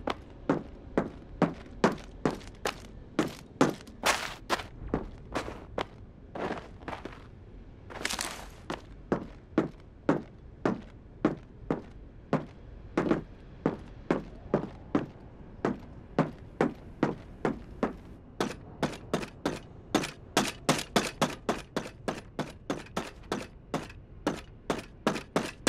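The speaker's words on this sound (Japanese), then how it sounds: "聞こえない足音の代表としてホライゾンとアッシュの足音を続けて聞いてみます" Horizon's and Ash's footsteps in Apex Legends, recorded at boosted volume, sound as a long series of crisp, evenly spaced steps. A brief pause and a louder scuff come partway through before the steps resume faster.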